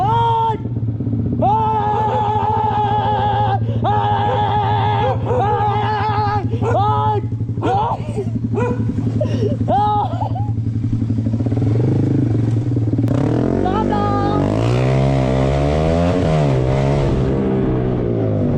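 A motorcycle rides into a residential neighbourhood, its engine note rising and falling through repeated revs with clattering and scraping, then a longer throttle sweep near the end, loud and close throughout.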